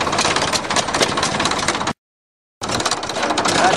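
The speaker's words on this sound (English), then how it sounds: "There's my exhaust leak, and my other exhaust leak." An old bulldozer diesel idling with exhaust leaks, giving a loud, close, rough chuffing rumble with ticking pulses that runs steadily, broken by one short cut of silence before resuming.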